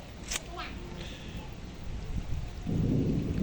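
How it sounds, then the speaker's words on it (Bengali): Steady rain hisses in the background, with a low rumble of thunder swelling toward the end; brief voice-like sounds appear near the start. "ও দেখ বৃষ্টি হইতেছে"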